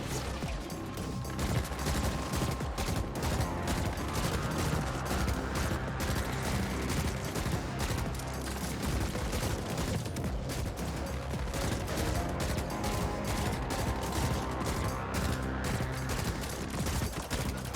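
Sustained gunfire from The Ascent, a cyberpunk shooter, while fighting enemies near a vault: a dense, unbroken stream of rapid shots and impacts, loud and close throughout with no pauses.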